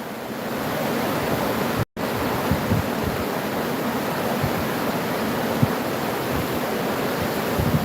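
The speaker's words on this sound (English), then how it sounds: "Okay, and this is our river." River water flows in a continuous, broad rush outdoors beside a trail, a steady even wash with no voices over it, briefly cut out once near the start.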